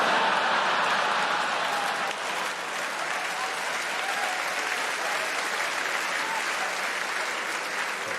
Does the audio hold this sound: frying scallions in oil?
no